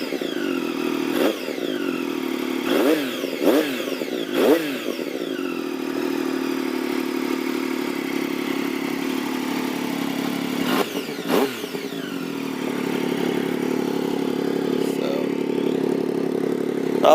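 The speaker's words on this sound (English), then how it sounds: "that's a cold start, so I ain't gonna rev it up too much, but just to give you guys an idea of kind of what it sounds like" A 2006 Triumph Daytona 675 sport bike idles on a cold start with a steady engine hum, broken by several short, light blips of the throttle near the start and a couple more later, heard up close with no talking.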